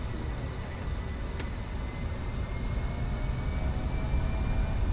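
Fokker 70 jet engines at takeoff thrust in a flight simulator game roar as a loud, steady broadband rumble that slowly builds, with a faint whine and no talk.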